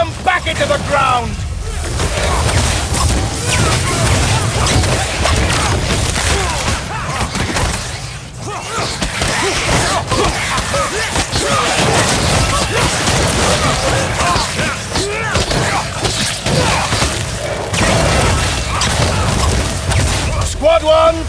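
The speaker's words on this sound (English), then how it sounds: "Cannon! To the north!" Cannons fire and explosions go off during a Stormfall siege battle in the video game Wolcen, a continuous dense din of booms and crashes lasting throughout, with shouting voices mixed in.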